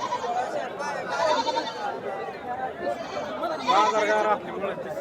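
A goat bleats repeatedly at a busy livestock market in Kashti, its wavering cries rising above nearby talking and background chatter.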